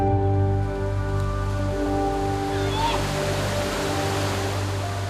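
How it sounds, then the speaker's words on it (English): A waterfall in northern Australia at the end of the wet season, a steady, dense roar of falling water. A droning hum sits underneath, and a voice speaks faintly over it. "the roar of this waterfall is a welcome call on a hot day"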